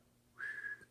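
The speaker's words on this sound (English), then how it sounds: "I don't usually whistle into my radios." A single sustained note whistled into a Texas Ranger 696F CB radio microphone, steady in pitch, rising abruptly and holding for about half a second before cutting off, close and clear against faint hum.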